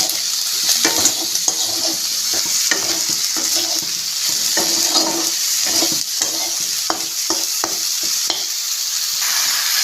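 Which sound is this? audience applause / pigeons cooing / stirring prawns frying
stirring prawns frying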